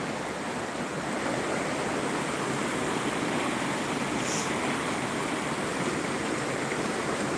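A creek flows in a steady, dense rush of water, close and constant for the whole stretch, with no talking over it.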